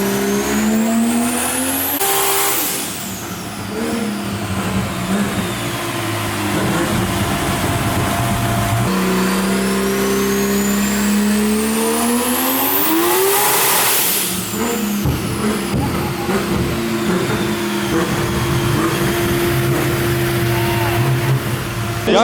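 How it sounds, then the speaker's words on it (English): A car engine revs hard and loud at a car meet, the pitch climbing and falling through repeated sweeps with high-pitched whine, close by and continuous over about twenty seconds with faint voices beneath. "it's about to get really loud because Alex's car's gonna go on"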